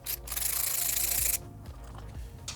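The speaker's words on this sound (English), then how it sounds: "This is a 10mm socket on a ratchet. So we're gonna go ahead and remove those bolts." Ratchet with a 10mm socket turning out fender bolts on a Yamaha TW200 motorcycle subframe, giving a close, loud stretch of rasping clicks that stops abruptly, followed by softer handling noises and a brief final burst.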